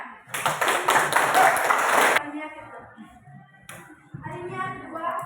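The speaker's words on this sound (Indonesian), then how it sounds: "Tepuk tangan." Clapping in a grade 9 classroom during a civics lesson, a dense burst of many hands for about two seconds, followed by people talking.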